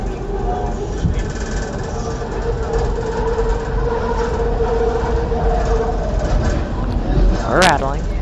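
SEPTA Market-Frankford Line subway car rattling and rumbling loudly from inside, a dense steady clatter of wheels and body with a brief squeal near the end.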